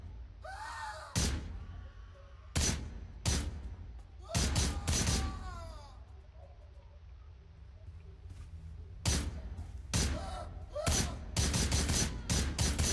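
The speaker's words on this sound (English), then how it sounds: "Okay, the shooting started." Gunfire in an active shooter training simulation staged inside a hotel: loud, sharp shots in irregular bursts and single cracks, some rapid clusters, with faint voices and a cry heard between shots.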